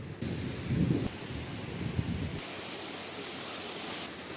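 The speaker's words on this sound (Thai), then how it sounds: "น้ำตกลมแรงมาก" Steady roaring rush of a waterfall on Jeju Island mixed with heavy wind buffeting, dense broadband noise throughout with gusty low rumble in the first half.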